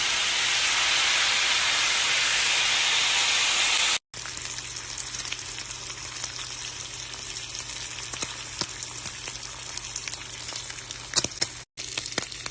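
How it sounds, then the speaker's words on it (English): Loud, steady frying sizzle of bacon slices in a cast iron skillet, a dense crackling hiss, cuts down after a few seconds to quieter popping and spitting that continues throughout. "let's get to frying this delicious bacon"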